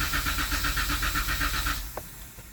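A car engine cranks to prime oil after an oil change with a Baxter oil filter adapter: the starter turns over in a rapid, even chugging rhythm for almost two seconds, then stops with a faint click.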